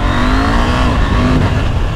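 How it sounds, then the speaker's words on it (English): KTM 890 Adventure motorcycle with an 890cc parallel twin engine, road-biased 2021 version, accelerating hard; a loud, continuous engine drone rising in pitch, close and steady with no talk. "it's got an 890cc parallel twin, and it's just got power in all the right places for road riding"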